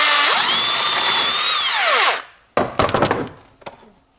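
A power tool with a 10mm socket tightens the air filter housing clamp on a 2015–2023 Toyota Prius 1.8 L 2ZR-FXE engine, a loud, close steady whine for two seconds that winds down, followed by several clattering knocks and a thunk.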